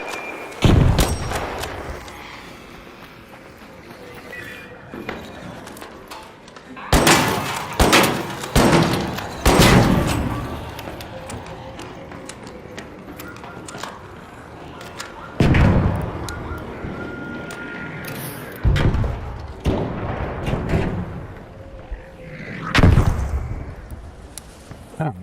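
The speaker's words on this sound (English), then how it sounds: "somebody's still stuck in last week and thinks we need to throw blaze grenades at that thing" Blaze grenades and heavy gunfire hitting a Bombardier machine in the game Arc Raiders, loud booming blasts and sharp shots coming in repeated clusters across the stretch, with someone talking between them.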